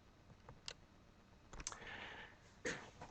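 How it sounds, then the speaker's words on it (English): Quick computer mouse clicks, faint and close, a few sharp ticks spaced across a quiet room with no talking. "I'm going to double click on that."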